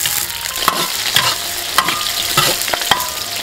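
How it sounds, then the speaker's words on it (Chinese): Salt, vinegar and scallions fry in a generous pool of oil in a wok, giving a steady, close sizzle broken by repeated scraping stir strokes. "锅里倒多一点的油，把盐、醋和大葱下进去，把它们炸香"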